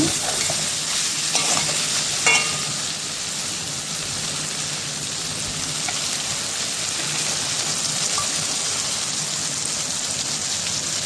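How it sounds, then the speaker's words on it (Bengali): Greens, yardlong beans and potato fry in oil in a pan, giving a steady dense sizzle throughout, with a few scraping stirs near the start, close and fairly loud. "আবার একটু নেড়ে চেড়ে নিচ্ছি।"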